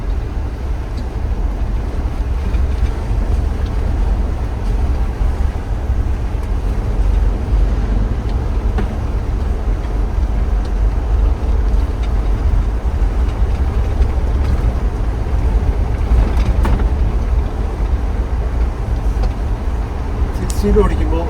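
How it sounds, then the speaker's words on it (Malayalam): A 2024 Mahindra Thar petrol automatic 4x4 driven at about 60 on a rough road, heard as a loud, constant cabin rumble of engine and road noise that does not let up. "ഇനിയിപ്പോൾ ഞാനിപ്പോൾ ഈ വണ്ടി ഒരു 60 ഓടിച്ച് നോക്കാൻ പോവുകയാണ്"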